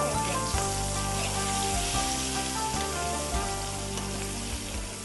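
Hot tempering is poured into a tamarind pulusu and sizzles in a loud, steady hiss that runs through the whole stretch, with a sustained tonal hum underneath and no talking.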